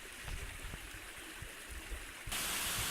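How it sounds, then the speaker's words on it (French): A 174-metre waterfall on the Routeburn Track gives a steady broadband rush of falling water, continuous and even throughout, growing louder and brighter in the last half-second as if coming closer. "on se trouve face à la plus haute cascade qu'on ait vue pour le moment"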